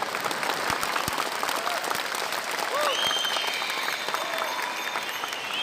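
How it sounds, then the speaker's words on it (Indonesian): Applause from an audience at an Islamic religious lecture in Malang, a sustained wash of clapping from a crowd throughout, with brief voices mixed in. "Tepuk tangan kok nanggung itu."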